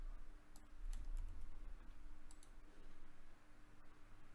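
A few faint mouse clicks, sharp and isolated, sounding over a low steady room hum while working in Power Query, with no speech.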